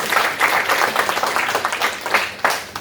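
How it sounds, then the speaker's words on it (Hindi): An audience at a waste management programme claps in a lively, uneven round of many hands, close and loud, with a few sharper individual claps standing out near the end. "तो बहुत अच्छा, इनके लिए भी ताली तो हो ही जाए।"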